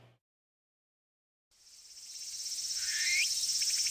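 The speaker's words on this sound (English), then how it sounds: "I heard cicada cries as the sun's rays threatened to blind me." After a brief silence, a high, continuous insect drone of cicadas rises and holds steady in a summer scene from a visual novel game. A faint bird call cuts in partway through.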